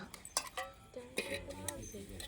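Dishes and metal utensils clink while being washed in a home kitchen, giving sharp, irregular knocks and rattles close by, mixed with people talking.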